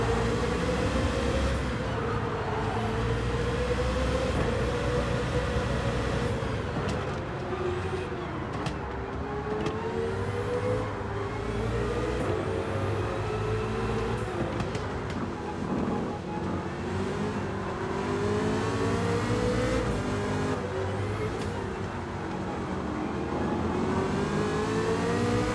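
Chevrolet Corvette CX-R VGT in Gran Turismo 7 accelerating hard, a loud, continuous engine and electric drive whine rising and falling in pitch through repeated gear changes with no talk over it.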